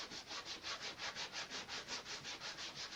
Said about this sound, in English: I'm just going to rub that down a little bit with some steel wool